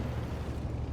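Tank guns fire in the World of Tanks video game, a loud booming blast that fills the whole second with heavy low rumble.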